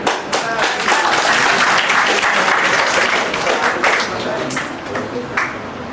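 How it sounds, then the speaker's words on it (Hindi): A crowd at a speech at TS Misra Medical College breaks into sustained applause, dense clapping filling the room before gradually thinning toward the end. "एक बार इनके लिए ताली तो मिलती है ना।"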